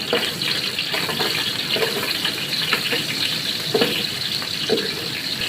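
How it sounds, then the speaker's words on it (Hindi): Onions frying in hot oil in a pot for vegetable pulao, giving a steady moderate sizzle with a few soft stirring scrapes and clinks along the way. "ये हमने प्याज डाला है, हल्का लाइट ब्राउन होगा"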